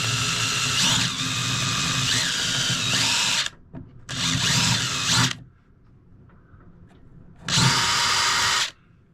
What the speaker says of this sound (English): put a small tiny drill in the middle, drill it down on the screw that's underneath